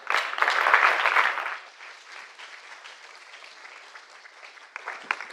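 An audience at an innovation competition final applauds warmly. The applause swells at first and then settles into a softer, steady patter before a few louder claps near the end.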